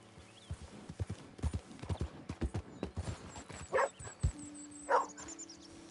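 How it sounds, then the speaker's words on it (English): A dog in the Red Dead Redemption II video game barks twice, loud and close, amid the clopping of horse hooves and faint ambient game sounds. "Doggy!"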